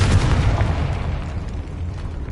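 Confringo fire spell blasting in Hogwarts Legacy, a loud sustained booming rumble with heavy low-end that swells at the start and slowly tapers over a couple of seconds.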